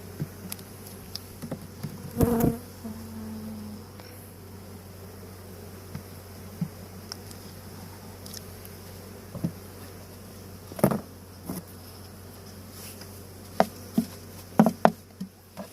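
Honeybees buzzing around a stacked beehive being dismantled on a bee farm, a faint, continuous hum with occasional louder passes as single bees fly close by the microphone.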